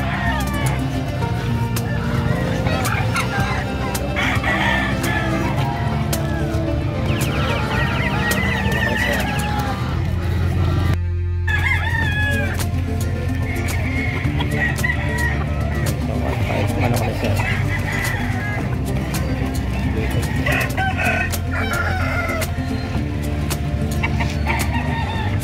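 Chickens cluck and a rooster crows amid a busy, noisy livestock market in San Carlos City, Pangasinan, with people talking nearby and constant background bustle.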